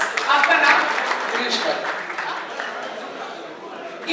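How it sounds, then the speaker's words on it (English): Audience applause at a smartphone launch event on stage, a dense, fairly loud wash of clapping that fades gradually over a few seconds, with voices mixed in. "जोरदार तालियां हो."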